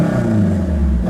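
A turbocharged Honda Integra Type R DC5 engine rumbles loudly and steadily, a brief deep, throaty drone with no voices over it.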